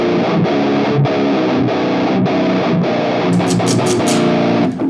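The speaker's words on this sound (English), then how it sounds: "we're going to kind of get back into this idea of distortion pedal versus preamp pedal" An electric guitar played through a distortion pedal plays thick, sustained chords in a steady strummed rhythm. The saturated tone is loud, and a brighter burst of strums comes near the end.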